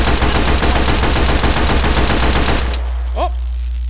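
SMG gunfire in the VR shooter H3VR, a loud, dense burst of rapid automatic shots that stops abruptly, leaving a low hum and a brief faint sound at the end.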